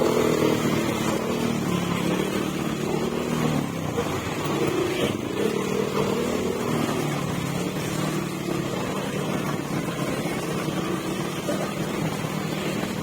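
A motorcycle engine drones steadily beneath a wash of busy traffic noise, moderately loud and continuous throughout.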